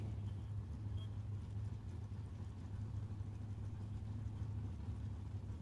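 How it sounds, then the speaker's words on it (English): An LS-powered Fox Body Ford drag car idles at a drag strip, its engine a steady low rumble heard from a distance at modest level, with no sharp revs. "Here's Hector Hernandez Jr. in that really bad to the bone LS powered Fox Body Ford."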